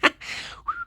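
Short whistled phrase from a character in The Simpsons: Tapped Out mobile game, a breathy burst followed by a rising then steady tone, close and clear with no talk.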